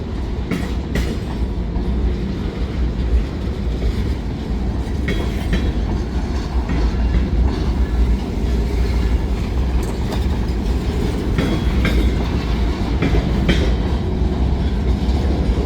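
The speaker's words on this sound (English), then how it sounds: "Oh, what a heck of a train." A long freight train rumbles past steadily at close range, with rhythmic clickety-clack of wheels on rails and occasional metallic clanks throughout.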